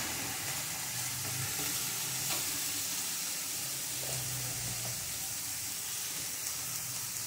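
Slit green chillies fry in a pan with a soft, steady sizzle and faint hiss, a couple of light clicks or stirs, close but fairly quiet and without speech.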